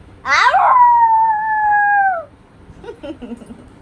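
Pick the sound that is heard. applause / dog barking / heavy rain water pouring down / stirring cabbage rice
dog barking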